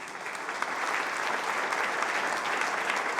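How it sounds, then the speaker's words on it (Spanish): Audience applause at a gathering of legislators, a steady, dense wash of clapping from a crowd that holds at an even level throughout. "Denle un aplauso al Señor."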